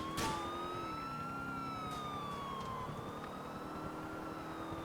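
Police car siren in GTA IV, a single wailing tone sweeping slowly up and down, fairly quiet and steady, with light engine and traffic noise beneath.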